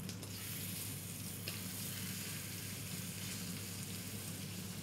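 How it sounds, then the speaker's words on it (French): Vegetables reheating in butter in a pan give off a steady, even sizzle that holds unbroken throughout, close and moderately quiet, with no talk over it. "Donc là, tu vas réchauffer tes légumes. Donc je mets un peu de beurre."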